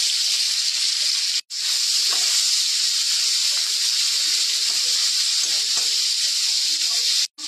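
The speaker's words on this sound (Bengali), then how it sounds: "চিংড়ি মাছটা ভেজে নেব" Shrimp seasoned with turmeric and salt frying in hot oil in a wok, a loud close continuous hiss and sizzle that briefly cuts out twice, with no talking.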